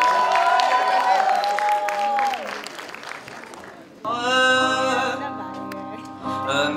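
A college festival crowd claps and cheers to welcome the college band, the applause fading out as a sung or sustained tone slides down. Then sustained electronic tones from the band take over.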